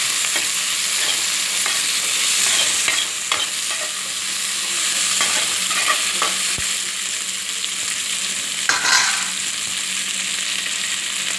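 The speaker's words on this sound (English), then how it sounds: "Just big size. Give it a good mix." Large onion pieces sizzle steadily in a hot pan for Kerala-style onion sambar, with close scraping stirs and occasional clacks of the spoon over a constant frying hiss.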